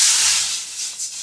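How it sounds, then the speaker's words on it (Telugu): Water poured into a hot pan for cooking vermicelli gives a sharp, loud burst of hissing steam that fades over a second or so. "అందుకు వాటర్ వేసుకోవాలి."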